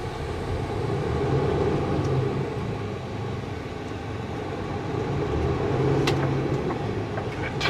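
Weekend traffic rolls along the mountain highway at Rogers Pass, a continuous broad roar of passing vehicles that swells, eases and swells again, heard close with no voices.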